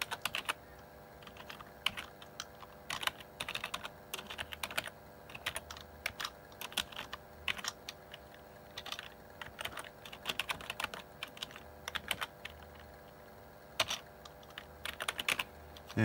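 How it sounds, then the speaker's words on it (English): Keys clatter on an Apple I computer keyboard as a short BASIC program is typed in, irregular bursts of clicks with brief pauses, close and fairly quiet with no talking. "type in a short basic program."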